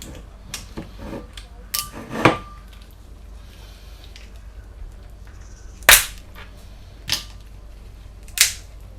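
Sharp isolated cracks and snaps ring out several times, spaced a few seconds apart over a quiet background, as a cooked lobster's shell is broken and pulled off with a knife nearby.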